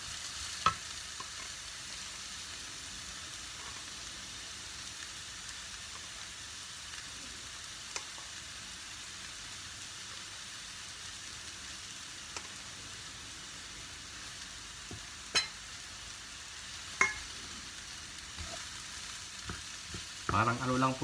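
Couscous stir-fried with mixed vegetables in a pan gives a faint, steady sizzle with occasional soft scrapes and clicks of stirring, heard alone.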